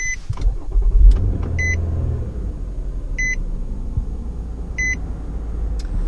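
A 2022 Nissan Murano is push-button started: a brief low engine crank and rumble fades into a settled idle, while short electronic chimes repeat at even intervals inside the cabin.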